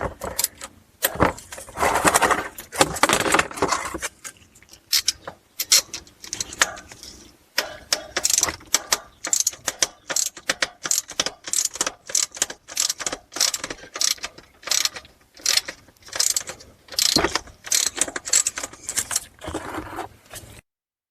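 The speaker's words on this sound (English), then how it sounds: "we'll go ahead and loosen up that drain plug and make sure you have your pan ready here" A ratchet wrench loosens the transmission pan drain plug on a 2014-2025 Dodge Durango with an 8HP70 automatic, giving close, loud bursts of rapid clicking that start and stop repeatedly, with metallic clinks between, and no talking.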